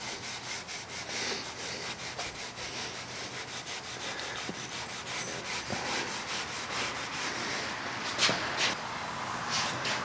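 Excess filler being wiped off the sides of an antique Singer treadle sewing machine cabinet with a rag and mineral spirits: steady, soft rubbing strokes, close but quiet, without speech.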